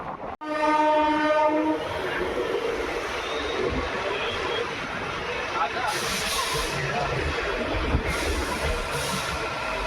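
The 22471 Bikaner–Delhi Sarai Rohilla SF Express pulls into Churu Junction, opening with a loud horn blast, then steady rumbling wheels, clatter and hissing brakes from on board, with bursts of high hiss.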